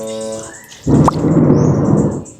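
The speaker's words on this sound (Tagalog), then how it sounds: "Ngayong magsasampay na ako guys, kumukulog naman." Thunder rumbles in stormy weather, a deep broad roll that swells in just after a brief voice and rolls on for over a second before fading.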